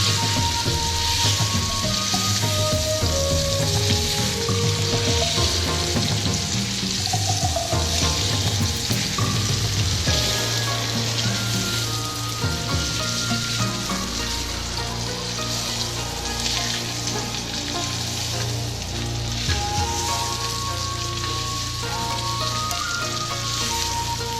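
Steak searing in a hot pan while it is constantly turned and moved around, giving a loud, continuous sizzle and crackle with occasional scraping as the meat shifts.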